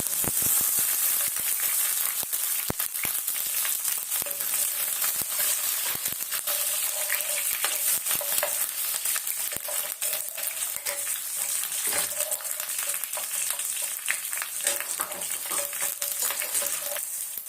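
Crushed garlic sizzles and crackles steadily in hot oil in a pan for a garlic rasam, with scraping stirs now and then and no talking.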